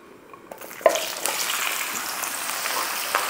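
Carrots frying in oil in a pan for chicken afritada, a steady close sizzle and crackle with a few louder pops and sputters, no talking.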